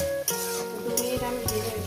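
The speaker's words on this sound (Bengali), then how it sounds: "পেঁয়াজ রসুন একসঙ্গে দিয়ে দিলাম, দিয়ে এটাকে আমি একটু ভেজে নেব।" Onion and garlic frying together in a pan for shrimp and water spinach stir-fry, a steady close sizzle with scraping stir strokes and a few sharp utensil clicks, no talking.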